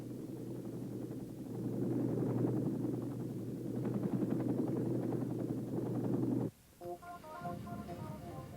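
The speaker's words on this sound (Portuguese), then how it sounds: "os helicópteros de resgate se aproximavam do ponto de salvamento" A steady rescue helicopter rotor drone with a low, pulsing thrum runs loud for several seconds in Vietnam War footage, then cuts off abruptly, leaving quieter tonal sounds behind.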